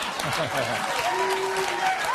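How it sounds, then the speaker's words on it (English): A studio audience at a late-night comedy talk show breaks into applause, a dense burst of clapping mixed with a voice talking over it. "Don't applaud that."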